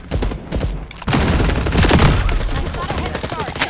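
Rapid gunfire from the video game FragPunk, loud dense bursts of automatic shots running almost continuously through the clip.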